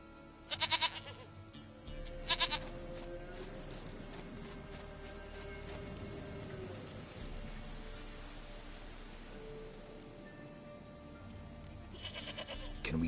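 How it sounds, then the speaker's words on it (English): A goat bleats in a video game, two short bleats near the start and another near the end over a steady ambient bed of rain-like patter and a low tone. "Goat of mine, dearest, sweetest goat."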